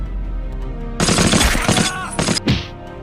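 A burst of WWII machine gun fire from the Easy Company D-Day episode, a loud rapid rattle of shots in two close bursts followed by a final short report.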